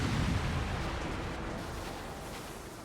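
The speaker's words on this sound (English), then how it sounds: "A massive explosion rings out in the distance." In the video game Tokyo Necro, a massive distant explosion lets out a deep, low rumbling boom that fades away slowly over a few seconds.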